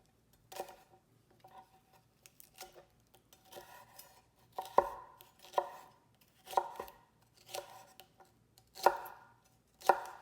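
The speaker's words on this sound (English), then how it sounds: "I prefer to do it by just cutting both ends off and then slowly opening it up and get the middle out." A knife cutting a bell pepper on a board, a series of crisp chopping taps and thuds in an uneven rhythm, close and fairly quiet.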